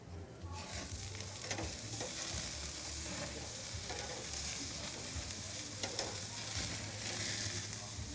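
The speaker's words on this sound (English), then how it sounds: "Now once you flip these, you still want to cook the steaks on the same amount of time on each side." Steaks sizzle in a hot pan after flipping, a steady dense frying hiss with faint crackles and occasional utensil touches, continuous and close throughout with no talk.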